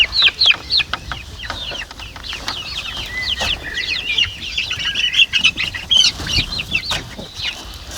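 Hens on a poultry farm cluck and squawk in a busy, irregular chorus of sharp, close calls over several seconds, with some flapping and rustling in the coop.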